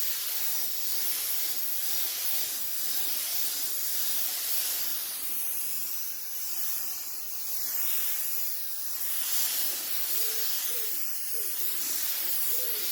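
Spray gun laying a light coat of lacquer onto a car wing at home, a steady close airy hiss that holds continuously with slight swells and dips.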